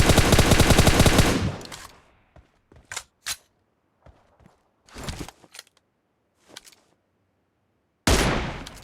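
Bursts of automatic gunfire from the BGMI battle-royale game: a long rapid volley, then scattered single shots and short bursts, and another rapid volley at the end, all loud and close.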